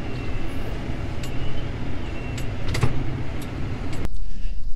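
A tractor backs up a wagon on an Iowa farm during storm cleanup, a steady rumbling engine with rattles and clanks from the hitch, close by, ending in a sudden sharp knock.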